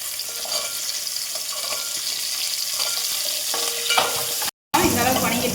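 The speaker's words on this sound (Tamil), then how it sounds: "இப்போ சின்ன வெங்காயம் சேர்த்துக்கலாங்க." Small shallots sizzle and fry in a pan for a Tamil home-style dish, with steady crackling and the scrape of stirring throughout, a brief dropout near the end, then the sizzle resumes loud and close.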